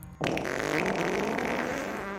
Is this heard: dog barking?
no